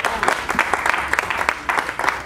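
An audience at an Ivorian comedy show applauds, with a burst of fairly loud, quick hand claps packed into a continuous patter, some voices mixed into the clapping.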